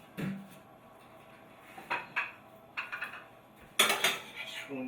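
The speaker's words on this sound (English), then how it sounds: "Spoon your veggies in." Vegetables, edamame among them, are spooned into a bowl in a few separate clinks and scrapes of a spoon on the dish, with a louder clatter of cutlery and dishes near the end, nearby and with no talking.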